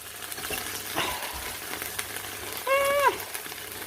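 Sausages sizzling and being rolled around in a hot tin for toad in the hole, a steady crackling fry with clattering bumps and a brief metallic squeak, fairly close.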